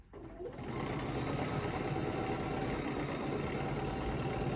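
A quilting sewing machine doing ruler work starts up and runs at a steady, fast, loud whir, its needle stitching in a continuous even rhythm close by with no speech.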